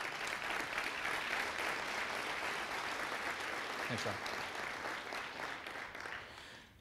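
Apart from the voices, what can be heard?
audience applause for Rob Adams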